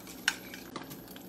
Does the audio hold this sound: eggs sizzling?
yes